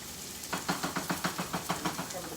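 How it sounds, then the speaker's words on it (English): Food sizzles and fries in a pan on a stovetop while breakfast is cooked on medium-low heat, with a steady hiss and a run of soft rhythmic stirring or scraping taps. "Oh, that's frying really good."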